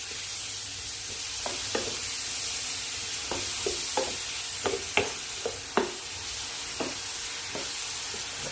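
Coconut palm sugar stirred with cinnamon for an air fryer apple pie, a string of close scraping and tapping strokes in an uneven rhythm against a soft hiss, with no voice.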